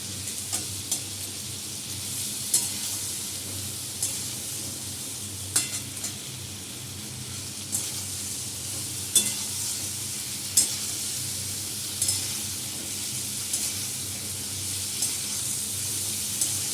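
Potatoes frying with tomato and a little salt in a pan for aloo dum: a soft, steady sizzle with a ladle scraping and stirring at regular intervals, close by, no talking.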